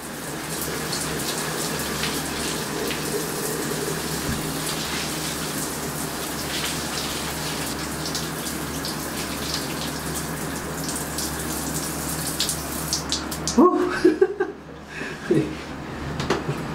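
Steady shower water pours while hair is rinsed, a continuous broadband splash that runs unbroken for most of the stretch, then cuts off abruptly near the end, leaving a few faint drips and small handling sounds.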